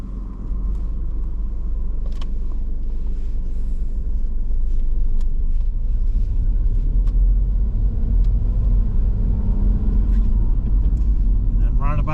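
A car on a road in Swindon during a learner's mock driving test, a steady low engine rumble and road noise from inside the cabin, continuous and fairly loud, with a voice heard briefly.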